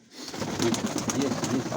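A domestic pigeon coos softly several times, low throaty murmurs repeating close by against a faint background hiss.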